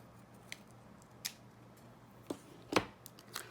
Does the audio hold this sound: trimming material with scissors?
yes